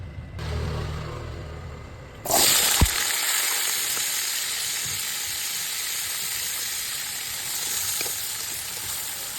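Cooking oil in a pan bursts into a loud, steady sizzle after a quieter start, holding an even frying hiss close by while heating for sautéing garlic and onion.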